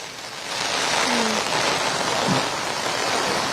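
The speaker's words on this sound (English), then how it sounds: "10 minutes ago it started raining, and started raining heavily." Heavy rain pours steadily onto a main road, a dense, even hiss that holds loud for several seconds, with a few faint low tones passing briefly beneath the downpour.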